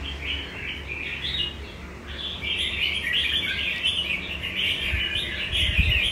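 A caged songbird, a bought-in bird with some feathers missing around its face, chirps and trills in steady, busy bursts, close and fairly loud, with no talk over it.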